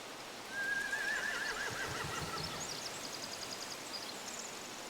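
Horses neigh in The Walking Dead video game, a loud, close whinny with a shaky, trembling pitch, then fainter whinnies and snorts over a rustling outdoor ambience.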